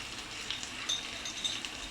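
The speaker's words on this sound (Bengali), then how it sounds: "একটু কাঁচা গন্ধটা চলে যাওয়া পর্যন্ত খুব ভালো করে আমি ভেজে নেব।" Spices fry in a pan for a broiler chicken and sweet pumpkin curry, giving a faint, steady sizzling hiss with a few light metallic clinks from stirring.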